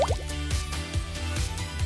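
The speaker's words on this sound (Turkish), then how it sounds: "Kuruyunca ısıyla renk değiştiren bir oje al. Bunun gibi küçük damlalar halinde dök." Heat color-changing nail polish falls in small drops, each landing with a soft, wet plop at a steady pace of about two per second.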